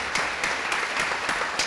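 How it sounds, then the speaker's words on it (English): A round of applause at a school athletic information night: a short stretch of crowd clapping, with a few sharper claps standing out at regular intervals over a steady hiss of hands. "So please give a big round of applause to Jen Gately and Stacy Rayful."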